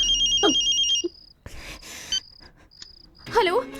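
A telephone rings in a dramatic movie scene, an electronic trilling bell sounding in a few bursts, with brief voices and incidental noises between the rings.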